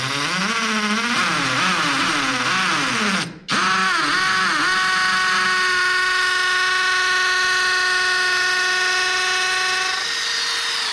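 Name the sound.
hammer drill drilling holes in concrete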